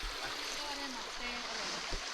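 A clear forest stream flows with a soft, continuous rushing hiss, faint and steady, with a voice faintly audible in the background.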